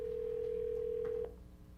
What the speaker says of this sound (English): he's gonna call the applicant and see if we can get him on the phone